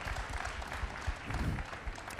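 Audience applause at BlizzCon 2013 during a StarCraft II update presentation, a steady burst of many hands clapping together throughout, moderately loud and even, with no talk over it.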